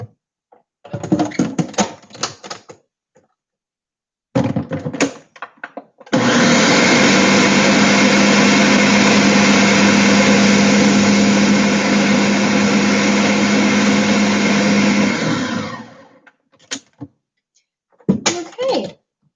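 A blender whirs through frozen vegetables in one loud, steady run of about nine seconds, with brief clatters and handling knocks before and after.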